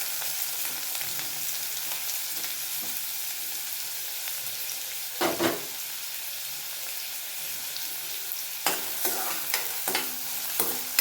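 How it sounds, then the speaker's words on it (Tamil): Onions added to hot oil and ghee with cumin seeds for paneer bhurji, giving a steady close sizzle with occasional louder stirring scrapes and bursts of frying, no talk over it. "இப்போ நான் வந்து ஆனியன்ஸ் சேர்த்துக்கிறேன்."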